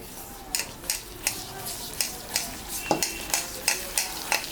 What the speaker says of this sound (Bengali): জল দিয়ে মাখাই